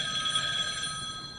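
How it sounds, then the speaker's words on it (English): An old-fashioned telephone bell rings steadily and close by in a radio drama scene, a continuous bright ringing that fills the short moment on its own with no voices. "Oh, it's Dr. Foster's phone"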